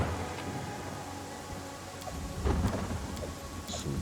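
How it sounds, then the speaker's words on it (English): Steady rainfall and low rolling thunder in the Pathfinder Kingmaker video game, with a heavier rumble swelling midway through the constant downpour. "make it so it can stop raining"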